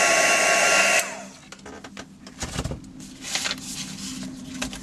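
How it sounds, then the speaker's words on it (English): A heat gun blows hot air over the cut ends of craft ribbon, a loud steady whooshing roar for about a second that cuts off, followed by faint light rustling and handling noises nearby. "What I'm just going to do now is run my heat gun over the ends of the ribbon just to stop it fraying."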